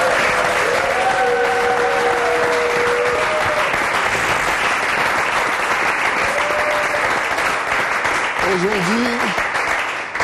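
An audience applauds in praise of Jesus Christ with sustained, steady clapping across a large group, loud and continuous, while a voice briefly cries out over it.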